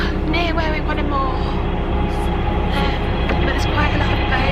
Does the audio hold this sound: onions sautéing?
no